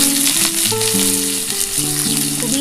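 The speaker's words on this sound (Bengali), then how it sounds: "এবার আমি কিন্তু পেঁয়াজটা দিয়ে দিচ্ছি।" Sliced onion fries in hot oil with black cumin and dried chili, a steady bright sizzle running throughout under a melodic music track.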